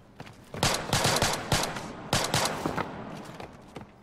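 Automatic gunfire in the multiplayer video game Splinter Cell Blacklist: two bursts of rapid shots, the first longer and denser, then a few scattered single shots. The shooting sounds moderately close and is heard without talk.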